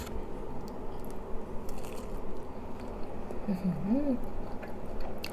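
Close, quiet biting and chewing of ripe Monthong durian flesh, soft crunches and moist squishing over a low background, with a brief murmured hum of enjoyment.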